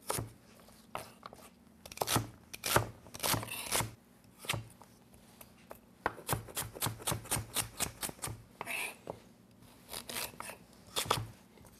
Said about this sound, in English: dicing here, just rough chopping of all the veggies.